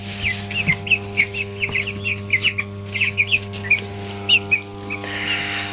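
Fifteen broiler chicks peep and cluck in a busy series of short high calls, close by, over a steady mechanical hum from equipment in the pen; nobody speaks.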